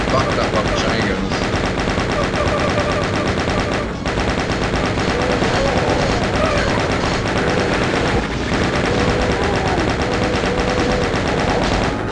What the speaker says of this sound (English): Getting fucked up on the chain guns.